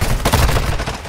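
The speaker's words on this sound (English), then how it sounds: "Wait, the gunshots are so loud." Loud rapid gunfire from Call of Duty Warzone in Verdansk, dense overlapping shots with heavy low boom filling the whole moment, no talk.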